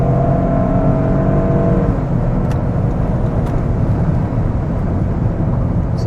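A 2025 Toyota GR with an automatic transmission cruises in normal mode, giving a steady, loud drone of engine and road noise inside the cabin that stays even throughout.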